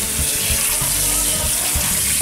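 Steady running cold tap water rinsing vegetables, splashing into a sink, a continuous bright gush with no voices.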